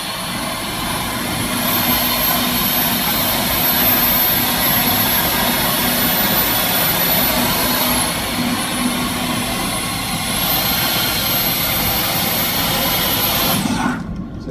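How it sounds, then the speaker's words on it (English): A Dyson V15 Detect cordless vacuum runs loud and close with a steady whining motor that ramps up in pitch, settles, drops back down and then rises again before cutting off at the end. "the dry condition motor ramped up when the acoustic sensor senses there is a very dirty spot, and it ramps down and ramps up again"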